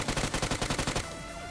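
Close automatic rifle fire in PUBG Mobile rattles out in a fast, even burst of about a dozen shots over one second, then cuts off into a ringing tail with faint metallic clinks.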